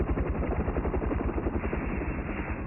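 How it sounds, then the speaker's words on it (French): A steady, rhythmic chopping of helicopter rotor blades, loud and close with a low mechanical thrum, muffled in the high range. "C'est un hélicoptère."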